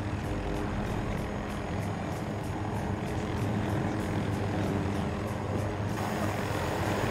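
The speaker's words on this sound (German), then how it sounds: "Alter, hier sind alle Helikopter." Helicopters in Battlefield 2042 drone in a loud, continuous rotor and engine roar that fills the scene steadily without letting up, with no talk over it.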